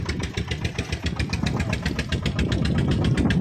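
A car engine idles steadily up close, its rapid even pulsing and rumble continuing without a break.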